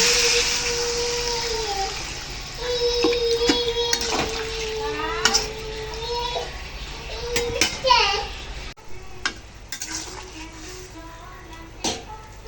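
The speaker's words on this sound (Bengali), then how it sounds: "দিয়ে দিচ্ছি পরিমাণ মতো জল" Water poured into a cooking pot holding fried rohu fish heads, a splashing rush at the start and then quieter trickles, with children's voices and kitchen clatter around it.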